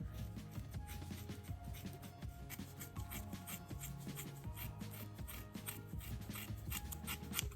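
Scissors snip through a bundle of Kanekalon braiding hair in quick, repeated cuts close up, with soft rubbing of the synthetic fibres between snips and no talking.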